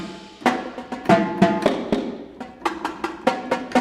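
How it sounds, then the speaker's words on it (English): Thin, tom-like tenor drums of a drumline struck in quick clusters and single hits, sharp close attacks with ringing tones, alone with no talk. "Those are the tenor drums"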